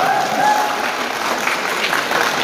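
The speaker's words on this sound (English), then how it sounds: "a big round of applause for Mr." Audience applause at a Northeast solo dance championship, steady loud clapping from a large crowd throughout, with a faint voice briefly at the start.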